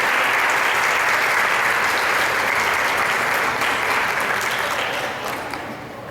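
Steady, dense applause from an audience at a public hearing on a municipal education plan, many people clapping together at an even level before it gradually tapers off.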